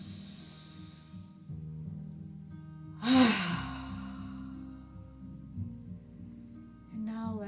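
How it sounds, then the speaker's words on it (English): A slow, deep meditative breath: a quiet steady inhale, then a loud airy exhale swelling in the middle, with softer breathing continuing over a low hum. "Inhale once more."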